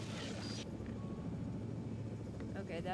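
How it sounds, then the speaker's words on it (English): Helicopter in a video game, a steady low rotor drone that fills the scene from start to finish, with game sounds and speech-like chatter layered on top. "Okay, so now I'm controlling the helicopter too."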